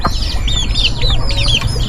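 Bantam chickens cluck and chirp steadily, several birds calling close by in quick, overlapping bursts.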